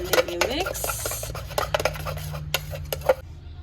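Pink colour being mixed into whipped cream in a bowl: a utensil clinks and scrapes against the bowl in quick, irregular taps and strokes, close and fairly soft.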